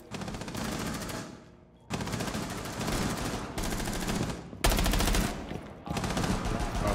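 Rapid automatic gunfire in the tactical shooter Rainbow Six Siege comes in four or five loud, sustained bursts, each separated by a brief pause.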